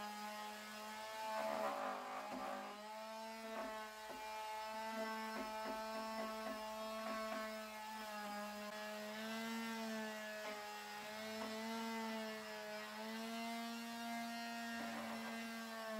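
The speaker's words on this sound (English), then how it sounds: "I tend to use this big sander on the larger areas, and I'll use a smaller detail sander to get into the smaller areas." A power sander buzzes steadily against painted wooden furniture, a continuous loud motor whine with a strong low hum and layered harmonics, running alone for the whole stretch with slight shifts in pitch as pressure changes.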